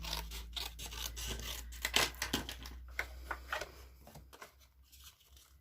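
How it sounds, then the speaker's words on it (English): Card stock is trimmed in half for a handmade birthday card: a quiet, close series of crisp cutting and scraping strokes, busy at first and tapering off toward the end, with no talking. "So I'm just going to trim this in half."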